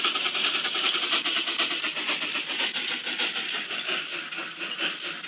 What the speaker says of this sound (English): The Bachmann EZ App Union Pacific 260 number 41.